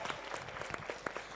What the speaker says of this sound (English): Let's give a round of applause for all our panelists.